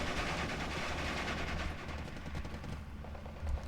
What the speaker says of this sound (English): Heavy artillery doing its thing.